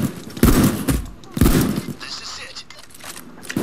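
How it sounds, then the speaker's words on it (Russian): Shotgun blasts in the heist game Payday, two heavy booming shots about a second apart followed by fainter gunfire, with a voice talking over them. "Дробовик у нас мощный, только начинает шалить почему-то."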